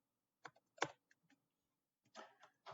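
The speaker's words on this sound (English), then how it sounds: "having problems typing here." Sparse, quiet keystrokes on a computer keyboard, a few scattered clicks followed by a short cluster of taps, close and otherwise silent.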